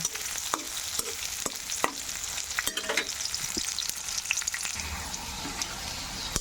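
Chopped onion and green chilies sizzle in hot oil in a pan, with a constant hiss broken by sharp clicks and scrapes as a spoon stirs them at close range.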